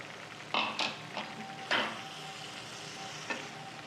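Onion-tomato paste and cashew paste fry in butter as a spoon stirs them, giving a steady close sizzle broken by several sharp scraping strokes against the pan.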